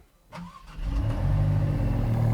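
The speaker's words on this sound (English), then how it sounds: "We have a Caprista race exhaust already installed. So it sounds better than the normal MC20 would." A Maserati MC20 fitted with a Capristo race exhaust cranks and fires up after a short starter whir, then settles into a loud, deep, rumbling idle close by.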